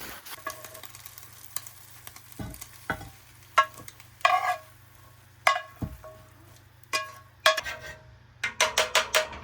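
Meat sizzles steadily in a cast iron pan during meal prep, while a utensil scrapes and clinks against the metal in sharp, irregular knocks. A quick run of taps comes near the end, and no one speaks.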